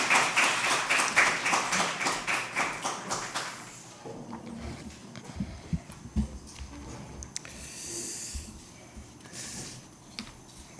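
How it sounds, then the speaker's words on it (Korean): Audience clapping at a university church end-of-semester worship service, welcoming a missionary speaker; a short burst of rhythmic applause fills the first few seconds, then fades into quiet room noise and faint shuffling. "우리 박수로 환영하도록 하겠습니다"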